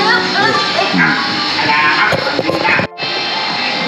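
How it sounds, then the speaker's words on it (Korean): Puppies yip and whimper in a busy, noisy market space near Bangkok, Thailand, while people talk over them. "어우 강아지 새끼들"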